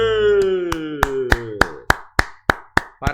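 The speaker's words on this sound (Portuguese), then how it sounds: "Palmas para a banda, hein?" Applause for a band comes as a run of about ten sharp, evenly spaced claps. They are loud and close and follow a brief falling tone at the start.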